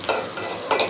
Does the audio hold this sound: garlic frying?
yes